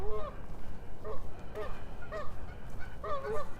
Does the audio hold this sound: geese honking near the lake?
yes